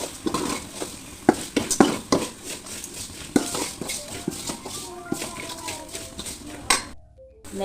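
A spoon stirs and scrapes ghee rice in a metal pot. Irregular clinks and knocks ring out close by over a soft, steady background, ending in a brief silence.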